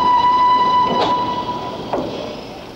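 Railway wagons roll through a marshalling yard retarder in a 1961 British Rail scene, with a steady rumble, a sustained squealing tone and two sharp clanks about a second apart, no speech.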